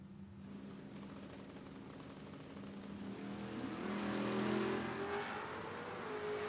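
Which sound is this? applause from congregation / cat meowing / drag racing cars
drag racing cars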